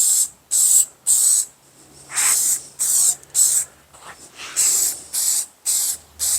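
Spray gun laying the first coat of finish on a wooden Victrola cabinet in red mahogany, a series of about eleven close, sharp hissing bursts, each roughly half a second long, separated by short pauses.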